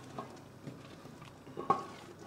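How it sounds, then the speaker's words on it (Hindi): Spices tempered in hot ghee for a Himachal-style maa ki dal, giving a faint sizzle with a few soft stirring clatters and spoon knocks, the sharpest one near the end. "और इसके अंदर अब मैं लगाऊंगा तड़का।"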